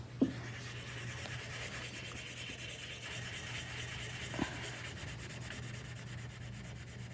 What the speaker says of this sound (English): I'm having to use rubbing compound to get this off